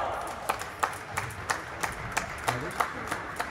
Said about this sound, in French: On entend le public qui applaudit.